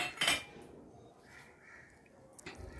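Mixed namkeen snack with crushed curry leaves is stirred in a bowl, giving a sharp clink of a spoon against the dish at the start and softer scraping and rustling after, with no talk.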